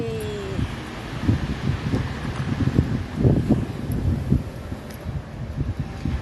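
Gusty wind buffeting the microphone, producing uneven rumbling thumps that rise and fall throughout, with no voices.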